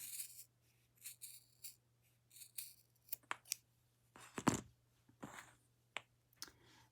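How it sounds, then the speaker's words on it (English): Scissors snip repeatedly through the fringe of a woven piece, producing crisp, close cutting sounds in irregular bursts separated by quiet pauses. "Now I'm just taking my scissors and I'm cutting all the fringe off."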